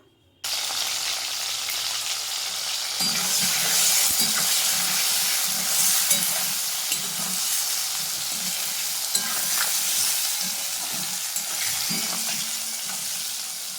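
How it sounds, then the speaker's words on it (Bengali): Okra pieces frying lightly in oil with salt and turmeric, a loud continuous close sizzle with intermittent stirring scrapes, no voices. "লবণ আর হলুদ গুঁড়ো দিয়ে হালকা করে ভেজে নেবো"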